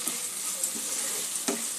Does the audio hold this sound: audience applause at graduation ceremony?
no